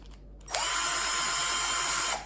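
A power drill set to its lowest speed drives screws into a brush socket for a Gardiner brush, giving one steady high-pitched whirring burst of about a second and a half after a quiet start.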